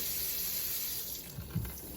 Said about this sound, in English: you just run the water